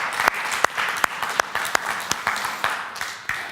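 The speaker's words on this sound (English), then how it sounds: "Let's give it a round of applause." Sparse applause from a small group after a photography segment, with individual claps popping out sharply over a soft rustle, fairly close and steady for a few seconds.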